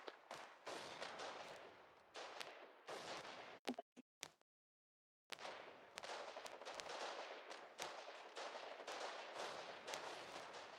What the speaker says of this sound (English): lots of machine gun fire coming from both sides here